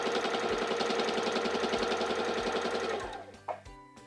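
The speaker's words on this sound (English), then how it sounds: "press down on your foot control to start sewing" A Singer 3337 sewing machine stitches fabric under foot-pedal control, a steady fast mechanical whirring hum that runs for about three seconds and then winds down, followed by a soft clunk.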